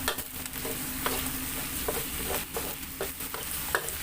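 Wide rice noodles and chicken are stir-fried in a wok over high heat, with a constant close sizzle and repeated scraping clinks of a spatula tossing the noodles.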